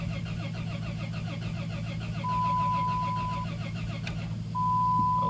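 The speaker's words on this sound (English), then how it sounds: "I'll let the starter cool down for a second" A 5.3L engine cranks over on the starter with the gas pedal held to the floor, giving a loud, steady, rapid churning rhythm that runs continuously without catching, close up.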